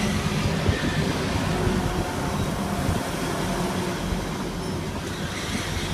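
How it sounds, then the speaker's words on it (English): A train arriving at a platform at Northallerton station, a steady loud rumble of wheels and engine rolling in close by for the whole span, with no voices over it. "Now approaching platform number 2 at Northallerton is"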